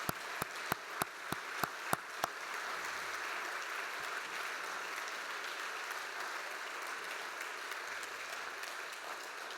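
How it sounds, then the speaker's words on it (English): An audience applauds a speaker, Noel Pearson, beginning with a few sharp individual claps that quickly swell into sustained, dense clapping from a large crowd filling the room. "Let's give him another round of applause,"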